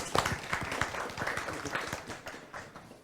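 An audience claps at a digital health demo day event in 2021, a short burst of scattered applause that starts loud and thins out over a few seconds.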